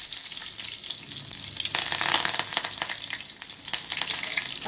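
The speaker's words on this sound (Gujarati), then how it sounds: "હવે આપણે એમાં 1 ચમચી જેટલું આખું જીરું એડ કરીશું." Whole cumin seeds crackle and sizzle in hot oil in a pan, with a fairly quiet hiss that swells into sharper spitting pops partway through.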